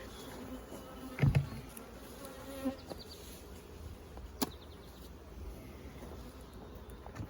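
Honey bees buzz around an open hive with single brood chamber and honey supers, a steady close humming drone with a few louder passes and bumps, light wind noise behind.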